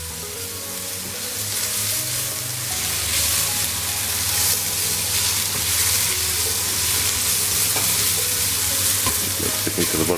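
Green peppers fry in a pan along with beef marinade juices, giving a steady loud sizzle with stirring scrapes throughout and a low hum underneath, and no voices.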